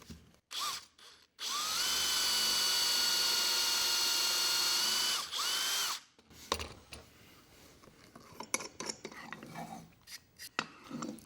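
A power drill bores a dowel hole into the wood of a drawer, a steady high whine running for several seconds and ending abruptly, followed by scattered clatter and handling noises from the workshop bench.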